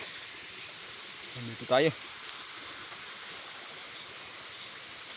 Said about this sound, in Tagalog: malapit tayo sa may bagsak ng talon mga idol. Bagsak ng tubig.